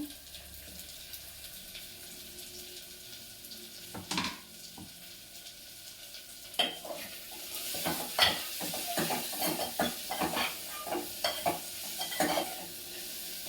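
Crushed white radish sizzles in a hot tempering of onion, starting as a low hiss and building into busy stirring with repeated spatula scrapes and clatters against the pan.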